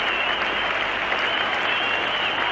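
Cricket crowd at a 1975 World Cup match between England and India applauding batsman Dennis Amiss, a dense, steady roar of clapping from a large stadium crowd that holds evenly throughout.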